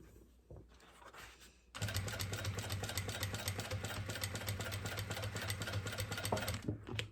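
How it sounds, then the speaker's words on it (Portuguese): A sewing machine backstitches and then stitches a seam on fabric; after a quiet start with a few handling noises, the motor kicks in loud and close, running steadily until near the end. "Retrocesso e venho costurando."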